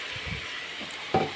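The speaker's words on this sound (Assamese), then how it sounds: "এই মছলাখিনি ধুনীয়াকৈ এতিয়া অলপ ভাজি ল'ম" A spice mix sizzles and is stirred in a pan for a dahi chicken dish, soft frying hiss with a few scrapes and a brief utensil clink near the end.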